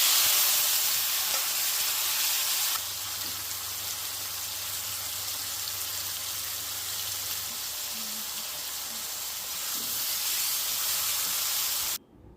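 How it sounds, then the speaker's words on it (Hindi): Tomatoes and green chillies fry in hot mustard oil with a loud, steady sizzle and hiss, easing slightly after a few seconds and cutting off abruptly near the end. "बस सरसों तेल गरम हुआ है, डायरेक्ट ही मैंने टमाटर और हरी मिर्ची डाला"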